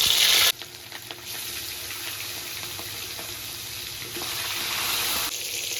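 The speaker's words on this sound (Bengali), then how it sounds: "তেলের ভেতর এবার মাছের পিসগুলো ছেড়ে দেব।" Marinated rohu fish pieces hit hot oil after a brief tap-like hiss, then fry with a steady moderate sizzle and crackle, close and without talk.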